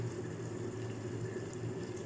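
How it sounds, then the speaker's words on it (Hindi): Running water fills a sink or bowl as fresh curry leaves and coriander are rinsed by hand, a steady close wash of splashing and pouring that continues without pause. "तो इस तरह से ज़्यादा पानी डालकर आप धोएं"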